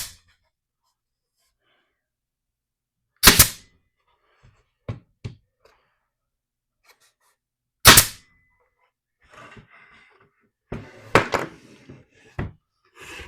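Nail gun firing into half-inch birch on a custom hutch rack, two loud sharp shots several seconds apart with light tapping and handling noises between and after.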